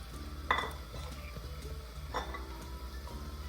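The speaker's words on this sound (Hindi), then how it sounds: "अब मैं चिकन साथ ही डाल दूंगी, अगर तेल गर्म हो जाएगा तो फिर ये उछलेगा।" Chicken pieces slipped slowly into hot oil in a karahi, a couple of clinks of metal on the pan over a soft, steady sizzle, close and fairly quiet with no talk.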